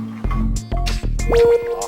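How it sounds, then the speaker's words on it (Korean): Water droplets fall onto skin in a comparison of a baby's skin and the skin of someone in their sixties. A few bright, plinking drips land one after another with short gaps, each ringing out briefly. "아기 피부와 60대 피부에 물방울을 떨어뜨려 보네요"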